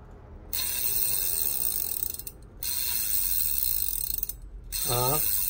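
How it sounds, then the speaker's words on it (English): Steady, rapid mechanical ticking of a freshly cleaned and lubed bicycle freewheel spinning, smooth and continuous, with brief pauses between spins and a short squeaky chirp near the end. "Now when it's clean and lube and everything, you will see sounds different."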